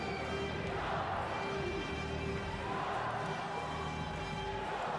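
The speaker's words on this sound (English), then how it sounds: "you can hear the crowd going crazy" Crowd roaring and cheering in an arena at a 2012 London Paralympic sitting volleyball gold medal match, a continuous distant din with a steady tone running through it and commentary-like voices beneath.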